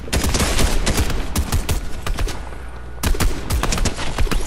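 Close, loud automatic gunfire crackles in the video game Fortnite, with rapid repeated shots in dense bursts and a short lull before another volley, and no talking over it.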